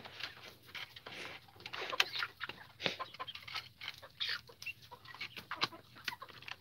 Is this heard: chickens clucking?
yes